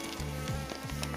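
A steady, close buzz of Apis cerana drone honeybees droning around a hive in the rainy season, continuous and fairly loud with slight wavering pitch.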